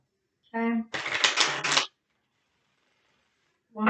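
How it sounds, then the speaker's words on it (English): A deck of tarot cards is shuffled in one brisk riffle of about a second, close and clear, with a voice speaking briefly before and after. "One more shuffle and a cut."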